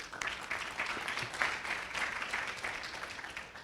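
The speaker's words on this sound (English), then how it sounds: "let's give that a round of applause" An audience claps throughout a gathering at an Islamic center, producing a fairly distant, steady patter of applause that holds without a clear peak.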